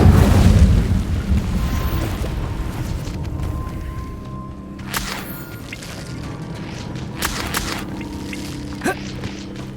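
Incendio fire spell cast in the Hogwarts Legacy video game, a loud booming whoosh of flame at the start that rumbles and fades, followed by a few sharp crackles and knocks.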